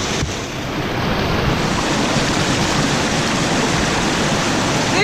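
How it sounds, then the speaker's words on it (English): Steady, loud rush of an ice-cold waterfall, heard close up as an unbroken broadband roar from start to finish, with no voices over it. "Lay down In an ice cold waterfall."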